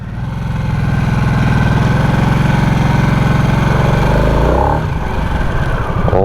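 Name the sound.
Harley-Davidson Nightster Special 975 motorcycle engine while riding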